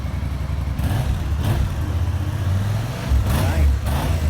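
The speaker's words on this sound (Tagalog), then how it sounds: "Ito ang tunog ng AK550." A KTM AK550 motorbike engine runs in a repair shop, a steady low rumble with brief swells of revving, close and fairly loud under faint background noise.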